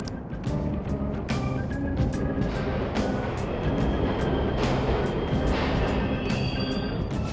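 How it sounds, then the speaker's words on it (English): Subway trains running in a station in the video game Persona 5 Royal, a loud continuous rumble and clatter of rolling carriages with repeated sharp metallic clicks and squeals throughout, no talking. "The trains are totally running!"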